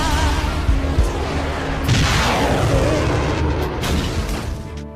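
Missile strikes exploding in the anime Eden of the East, loud booms and a rolling, rumbling blast with a swelling roar midway, dense and continuous under music-like tones.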